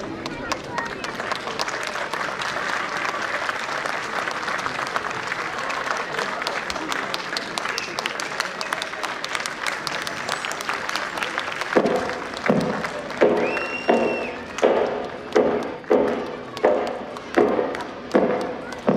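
An audience at a school annual function applauds and cheers through a broad, steady wash of clapping and voices, which gives way to loud rhythmic group clapping in time over the last several seconds.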